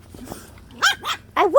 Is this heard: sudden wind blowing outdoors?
no